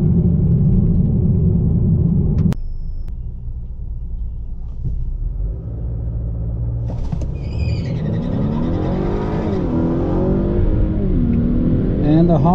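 A 2020 Honda Accord Sport 2.0T racing on a track: a loud engine rumble drops off after a sharp knock, then rises again as the car accelerates hard with climbing revs. Voices talk over it.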